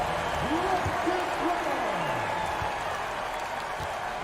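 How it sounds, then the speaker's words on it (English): Broad crowd applause and cheering filling an arena during a basketball game, with an announcer's voice talking over it. "Please give a big round of applause for your Grizzlies"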